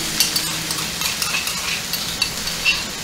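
Garlic and ginger hit a hot pan for a quick sauté, giving a loud, close sizzle with scraping stirs and small clinks over the top.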